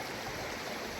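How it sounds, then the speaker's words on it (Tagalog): River water flows steadily, a continuous broadband rush close by, with no voices over it. "dito sa ilog na yan, yung flow ng tubig"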